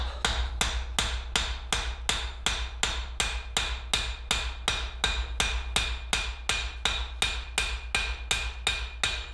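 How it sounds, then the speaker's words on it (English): Steady, rapid metallic taps of a light hammer mushrooming a rivet head on forged fireplace tongs, about two strikes per second, evenly paced and close, with no talking. "you want the lighter hammer specifically to mushroom the top"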